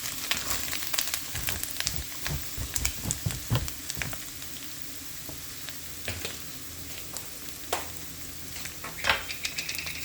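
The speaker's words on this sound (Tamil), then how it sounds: "நான் இப்போ இந்த தேங்காவை ஆட் பண்ணிவிட்டேன். இதை நான் கொஞ்ச நேரம் இப்போ நல்லா ஃப்ரை பண்ணிக்கிறேன்." Grated coconut frying in hot oil for a beetroot poriyal, with a steady soft sizzle under frequent scraping and stirring strokes of a spoon against the pan, close and moderately quiet, with no talking.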